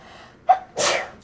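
A single sharp sneeze, close and loud, preceded by a brief intake of breath, with near silence around it.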